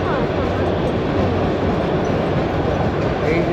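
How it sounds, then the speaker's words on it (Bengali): The Kalka–Shimla toy train, the Shivalik Deluxe Express, runs with a continuous loud rumble and rolling wheel noise on the mountain line, sustained and steady from start to finish. "এই যে সে আঁকে বেঁকে চলে যাওয়া সেই টয় ট্রেন"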